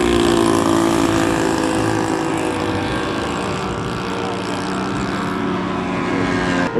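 Low pass over a runway by a T-38 jet aircraft, a loud steady roar that holds throughout and swells slightly near the end, with no talk.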